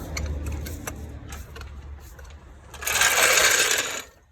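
A floor jack being lowered under a Citroen C1 during clutch work gives a loud, close mechanical rush and rattle lasting about a second, after quieter workshop handling noises.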